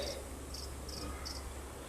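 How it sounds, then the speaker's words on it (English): Male crickets chirp in short bursts repeating at a steady, even pace, sounding close and clear over a constant low hum. "hear that chirping? That's the males."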